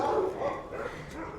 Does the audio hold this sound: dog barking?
yes